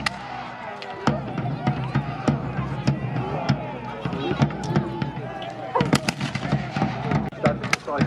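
Gunfire at an English Civil War battle reenactment, a string of sharp black-powder shots of varying distance, some isolated and a denser cluster near the end, heard under a crowd's background murmur.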